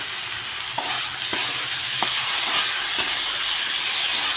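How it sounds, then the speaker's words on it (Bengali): Rice and lentils fry together in a pan for khichuri, with a steady hissing sizzle broken by repeated scraping stirs at irregular intervals. "চাল ডাল একসঙ্গে মিক্স করে ভেজে নেব"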